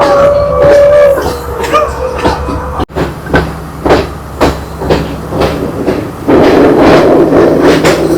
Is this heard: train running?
yes